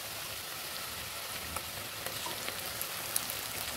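Mutton and ground spice paste sizzle steadily in a hot pan while mutton kasa cooks, a close, even frying hiss broken by small pops and crackles, with no talking.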